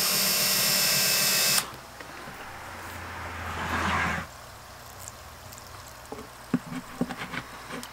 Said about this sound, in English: this hole I'm going to drill into